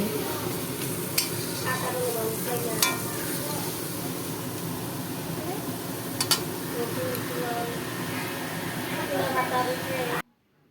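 Koi fish fries in a pan of greens with a steady hiss and crackle, punctuated by a few sharp clinks of a utensil against the pan, while a person talks over it before an abrupt cutoff.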